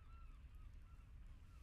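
An outdoor seagull gives a few faint, repeated calls that sit under a constant low rumble, fairly distant.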